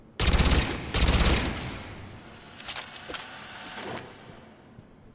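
The Shuriken gun in Mass Effect 3 fires two loud, rapid automatic bursts, each lasting about half a second. Fainter, sparser shots follow as the firing tails off.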